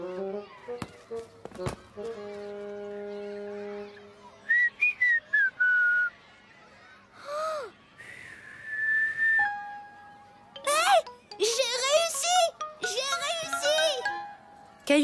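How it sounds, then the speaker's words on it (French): Thin whistled tones rise and waver in short attempts, some sliding up and down, mixed with a voice and brief chiming sounds. "Caillou voulait siffler lui aussi."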